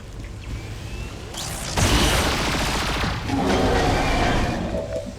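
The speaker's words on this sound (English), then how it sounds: "and thus can only shoot the repeater." A repeater weapon fires in XCOM 2, a loud burst of heavy gunfire with booming impacts and mechanical clatter that keeps up for several seconds.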